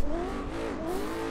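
Car engine revving with tires squealing during a handbrake grab while drifting in the Forza racing game, a short, close burst of engine tone sliding up and down over tire screech.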